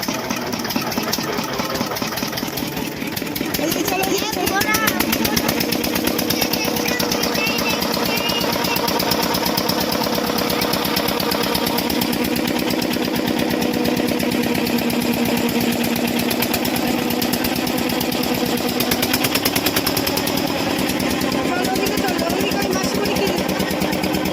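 A small engine starts and settles into a steady rhythmic chugging idle, loud and close, running continuously with a slight lift in pace after a few seconds.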